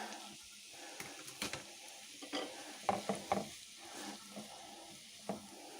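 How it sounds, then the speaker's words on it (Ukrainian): Onions sizzle and hiss steadily in rendered fat in a hot pan while a utensil stirs, scraping and tapping against the pan now and then. "А на пательню відправляю цибульку"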